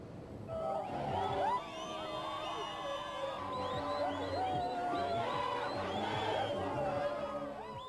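A celebrating crowd in Pretoria after Mandela's acquittal, a dense hubbub of many voices with scattered shouts and cheers sustained throughout, fairly near and steady in loudness.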